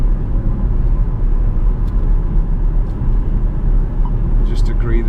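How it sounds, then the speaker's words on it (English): Jaguar XF with a 5-litre V8 in race mode, a deep steady engine rumble heard from inside the car while someone talks over it throughout. "Everybody should have a 5-litre V8."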